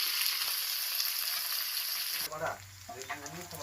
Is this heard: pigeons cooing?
no